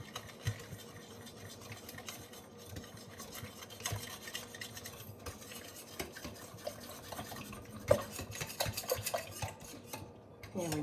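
Sourdough starter being stirred into a runny, soupy mix in a bowl, with soft, quiet scraping and clinking from the utensil, steady through most of the clip and a few sharper taps.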